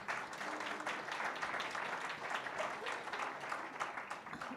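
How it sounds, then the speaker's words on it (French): Applause from a conference audience at a national eldercare colloquium, a dense, steady wash of clapping heard somewhat distantly and at low level throughout. "J'espère que vous entendez les applaudissements."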